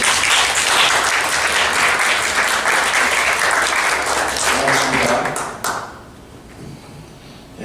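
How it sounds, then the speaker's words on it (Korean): A church congregation claps steadily to welcome newcomers at a Sunday service, dense sustained applause filling the room for several seconds before it tapers off abruptly. "박수로 환영하겠습니다."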